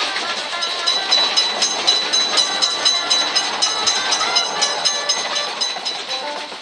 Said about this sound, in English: Quick, train is noticed.